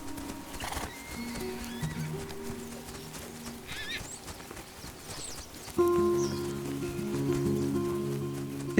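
Wild horses roaming the Oostvaardersplassen wetland in the Netherlands, with hooves clip-clopping and a whinny standing out over steady outdoor ambience, then a louder, denser passage of neighing and movement near the end.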